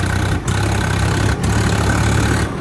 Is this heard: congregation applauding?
no